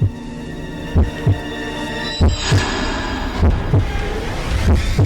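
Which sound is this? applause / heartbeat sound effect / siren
heartbeat sound effect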